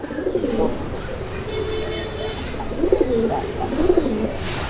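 Large black Lahori pigeons coo in repeated low, throaty rolling calls close by, amid rustling and background noise, with a voice talking at moments.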